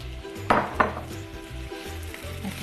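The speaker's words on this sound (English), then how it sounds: "we're gonna just let those move around in the hot sesame oil" Aromatics sizzling and moving around in hot sesame oil for prawn pad thai, a steady close frying hiss with a couple of sharp pan or utensil clatters.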